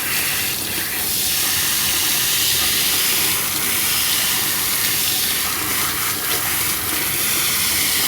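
Rinse water runs steadily off a dog during a creative grooming session as candy cane dye is washed out, a continuous close hiss of spray and splashing with no talk.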